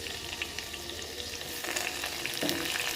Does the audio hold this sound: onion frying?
yes